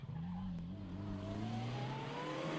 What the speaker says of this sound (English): That's the number 16 Mitsubishi of Dominic Julien.